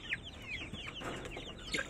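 Young chicks on a backyard poultry farm chirp in short, high, repeated peeps, with some clucking fowl mixed in nearby at moderate loudness.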